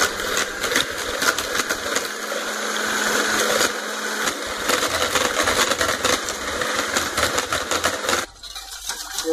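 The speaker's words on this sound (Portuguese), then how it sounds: "vou bater as gemas na batedeira até elas ficarem, esbranquiçadas e fofinhas" An electric stand mixer whirs steadily for about eight seconds as it beats egg yolks for chocolate gelato, with small rattling clicks in the motor noise, then it stops abruptly near the end.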